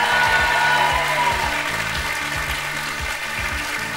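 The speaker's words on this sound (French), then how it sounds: "Applaudissez Sandrine et Nicolas." Studio audience applauding on a French TV word game show, steady and loud throughout, with a low rhythmic beat of music underneath.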